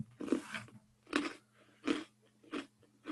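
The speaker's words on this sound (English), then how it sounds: "Just be glad the mic isn't like right in front of me because you'd hear nothing but crunching." Dogs crunching food as they eat, four distinct crisp chewing bursts at a steady rhythm, close and moderately loud with quiet gaps between them and no talk.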